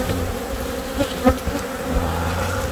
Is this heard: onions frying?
no